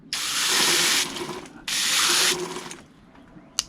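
Garden hose spray nozzle set to a fine mist, hissing out water in two loud sustained bursts separated by a brief pause, then a quieter trailing spray and a sharp click near the end.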